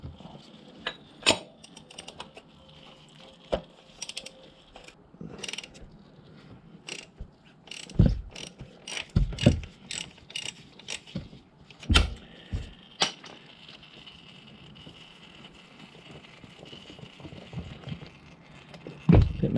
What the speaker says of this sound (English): I've just got an adapter on my 1/2 inch wrench, and we're going to stick that underneath and take the oil filter off.